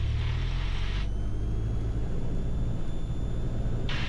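A light aircraft engine run-up to 1700 RPM, a steady loud droning rumble that holds constant throughout, with no talk.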